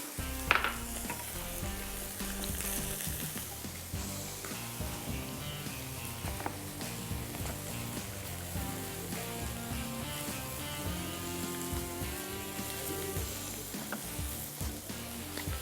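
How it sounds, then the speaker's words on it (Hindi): Samosas frying in hot oil give a steady, busy sizzle with crackling pops, continuous and fairly close throughout, with no talking. "ये समोसे जब तक फ्राई हो रहे हैं"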